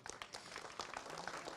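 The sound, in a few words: applause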